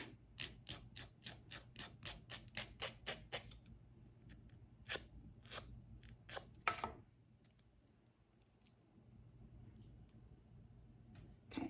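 A nail file rasps against the edge of a French manicure nail strip in quick rapid strokes, about a dozen even scrapes in a row, then a few slower, scattered strokes before it falls quiet; close and fairly soft, with no talk.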